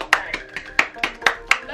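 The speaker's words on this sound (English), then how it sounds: "Round of applause for Wenda." A few people at home clap in a small, uneven round of applause, with sharp distinct hand claps close by and some talk mixed in.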